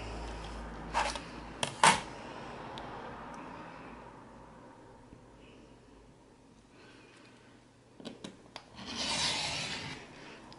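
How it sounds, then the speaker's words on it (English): Fabric being cut into 1 3/8 inch strips for sewing piping, with a few soft rasping cuts and short scraping bursts around a quiet stretch, ending in a louder hissing sweep. "So I'm going to cut 1 3/8 strips."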